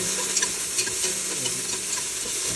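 Garlic and onion sauté in hot oil in a pan for mung bean stew, giving a steady bright sizzle with occasional light clicks of stirring.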